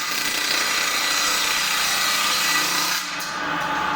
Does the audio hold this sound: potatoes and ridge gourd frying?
no